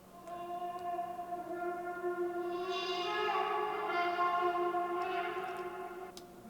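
A hazy, reverberant reversed vocal chant sample with swelling breathy tones, looping steadily at moderate volume, with no other sound.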